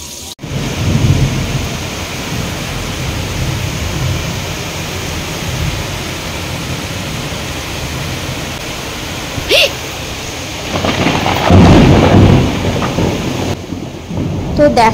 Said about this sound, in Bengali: কেমন আচমকা আচমকা আর কি বিদ্যুৎ চমকাচ্ছে, বাজ পড়ছে, তো প্রচুর বৃষ্টি হয়েছে